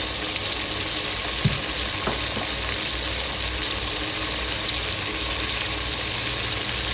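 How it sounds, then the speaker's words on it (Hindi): Meat frying with red chilli in a pan for daal mash, a steady dense sizzle held throughout, close and fairly loud, with a few faint clinks. "गोश्त को भी हम फ्राई कर दें और इसमें मैं डालने लगी मिर्चें, हाफ चम्मच रेड मिर्च,"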